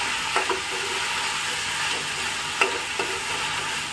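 Tomatoes with turmeric, red chilli powder and salt frying in a pan for palak paneer give a steady close sizzle, with a few light clinks of stirring.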